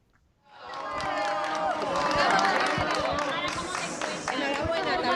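Journalists greet an arriving public figure with sustained applause mixed with crowd chatter and cheering, beginning after a brief quiet moment and continuing loud and dense throughout.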